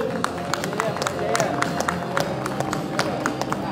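An audience at an oratory club's anniversary ceremony claps for the judges, scattered sharp hand claps popping over a steady murmur of the crowd in the hall.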